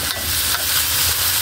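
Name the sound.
chicken being added to a hot pan for adobo, sizzling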